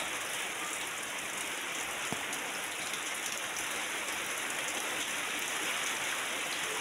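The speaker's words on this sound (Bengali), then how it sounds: "সে রাত ধরে বৃষ্টি পড়ে দিচ্ছে" Steady rain falls outside at night during a downpour with wind, a continuous even hiss that stays constant throughout with no voices.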